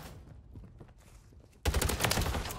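A battle rifle in a video game opens up after a quiet stretch of light movement, a loud, rapid burst of gunfire that keeps going to the end.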